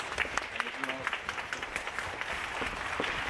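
An audience applauding as a guest speaker is welcomed at a seminar on the Kobe earthquake, steady clapping spread across the room with a voice talking over it.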